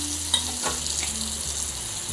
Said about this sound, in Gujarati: પછી દાળમાં આપણે વઘાર કરવાનો છે